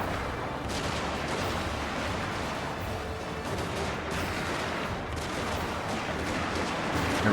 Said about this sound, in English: General, get those pistols shooting.